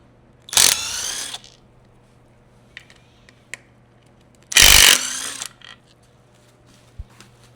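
Ratchet work while pulling the transmission off a 1978 Pontiac Trans Am: two loud bursts of rapid mechanical clicking, about a second and a half apart, with faint tool taps between them and no talking.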